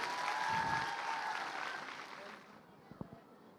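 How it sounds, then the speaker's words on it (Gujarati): Audience applause greets guests walking onto the stage at an annual school festival. The clapping is loud and sustained, then fades out after about two and a half seconds, followed by a few soft knocks. "તાળીઓના ગડગડાટથી વધાવીશું."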